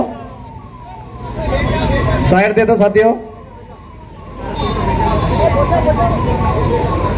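An ambulance siren wails loudly as the vehicle pushes through a crowd at a street protest at a town intersection in Kukshi, with a voice over a loudspeaker and crowd noise.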